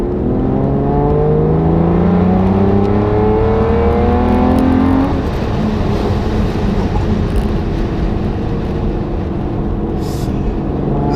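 An Aston Martin DBS engine revs and accelerates, rising in pitch through the gears before settling into a rougher, steady roar at speed.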